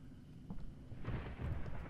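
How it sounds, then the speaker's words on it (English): A low rolling rumble of thunder in the horror game The Crow's Eye, swelling after a second and lingering as a broad, dull roar at moderate distance with no voices over it. "that's just lightning, or thunder, not lightning"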